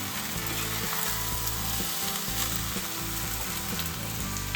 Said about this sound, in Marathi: हलक्या हाताने आपण हलवणार आहोत, म्हणजे तांदूळ सुटणार नाही आपला